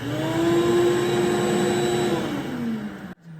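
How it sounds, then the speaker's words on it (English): A shop vacuum attached to a dust shoe on a Workbee CNC machine runs with a loud, steady whine and rushing airflow, then cuts off abruptly near the end. "I can actually turn the vacuum on and off with one of my fast buttons over here."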